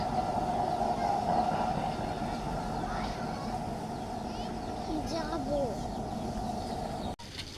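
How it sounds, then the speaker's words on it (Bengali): Steady low rumble of a train running by in the distance, continuous for several seconds, with birds chirping and occasional voices over it. "ওই যে ট্রেন যাচ্ছে।"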